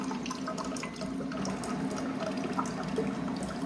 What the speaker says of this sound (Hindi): वो गरम पानी आप देख सकते हैं,